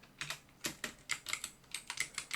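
Rapid keystrokes on a computer keyboard, a dozen or so crisp clicks in an uneven typing rhythm, close and fairly quiet, ending without a distinct final key press.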